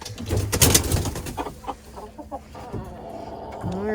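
Chickens cluck and coo inside a shed converted into a chicken coop: several birds chatter close by, busy at first and then sparser, with a few soft rustles.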